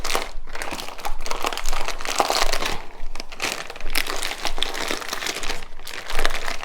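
Plastic bag crinkling and crunching continuously up close as shredded hashbrown casserole mixture is mixed inside it, with no talk.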